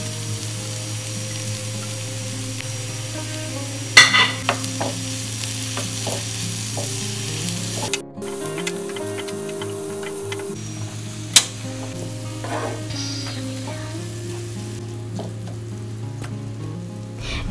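Mushroom keema for lasagna sizzling steadily in a pan while being stirred, with a constant frying hiss, scattered clinks and scrapes of the utensil, and one sharper knock, no talk.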